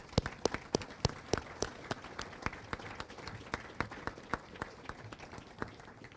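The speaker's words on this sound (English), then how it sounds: "Please give those unsung heroes a round of applause." A modest crowd at a 2023 garrison change of command ceremony applauds for unsung heroes, individual sharp claps standing out clearly over a steady background patter.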